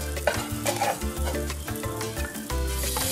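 Cheese sizzles and fries in a pan for a Brazilian cheese with banana dish, a steady close crackle with stirring and scraping, no voices.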